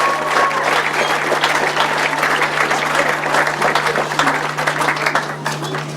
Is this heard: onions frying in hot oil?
no